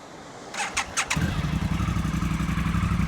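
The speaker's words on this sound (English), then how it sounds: "Quite a nice rumble from the exhausts." A 2025 Triumph Speed Twin 1200 motorcycle starts with a few sharp starter whirs, then settles into a steady, loud, low exhaust rumble at idle, close by and with no talking.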